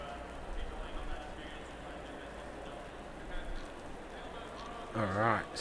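Rain falls in the PC racing game Pan Am Racing at Barcelona, a steady soft wash of noise throughout, with a voice speaking briefly near the end.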